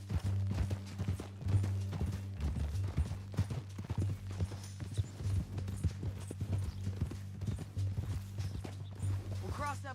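Horse hooves clip-clopping at a steady walking rhythm in Red Dead Redemption 2, close and clear over a low hum, with people talking over the steps and a brief whinny near the end.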